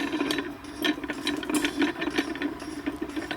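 A fruit press being wound up, its mechanism giving a steady mechanical ratcheting and grinding with rhythmic clicks, close and fairly loud, no talking.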